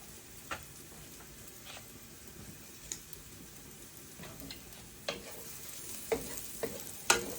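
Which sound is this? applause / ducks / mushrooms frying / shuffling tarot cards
mushrooms frying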